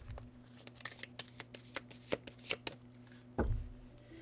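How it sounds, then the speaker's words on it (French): Tarot cards are shuffled by hand, a quiet close series of soft regular slaps and riffles at an even rhythm, ending with a louder shuffle near the end. "Mettre l'attention sur les cartes pendant que je mélange."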